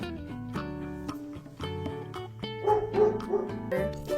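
A toy dog from a farm barn play set barks in a quick run of bright, electronic-sounding yips over a tinkly tune, close and steady for about four seconds with no talking.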